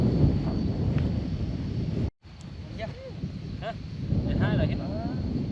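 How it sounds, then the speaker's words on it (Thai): Cool wind sweeps across the Plain of Jars in Xieng Khouang, Laos, buffeting the microphone with a steady low rumble that briefly cuts out, while people talk faintly. "โอ้ลมเย็นอยู่"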